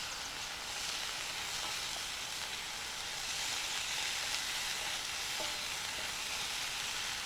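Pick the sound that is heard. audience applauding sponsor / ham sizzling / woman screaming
ham sizzling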